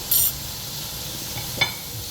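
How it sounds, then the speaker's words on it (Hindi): Stirring red beans with chili powder and turmeric in a pot: soft scraping and a brief clink of spoon against the pot over a quiet background. "इसे 1 मिनट के लिए मिक्स करेंगे"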